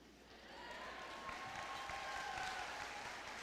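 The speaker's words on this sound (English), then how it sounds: "I was hoping for that applause." Distant, fairly faint applause from a high school graduation audience, a steady hiss of many hands clapping that swells slightly and holds, with a faint tonal hum running beneath it.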